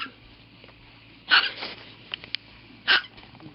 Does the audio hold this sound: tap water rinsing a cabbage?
no